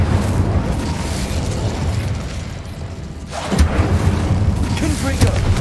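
An Incendio fire spell is cast in the Hogwarts video game, a whooshing burst of flame rising out of steady rumbling game ambience, with a second sharp pop near the end.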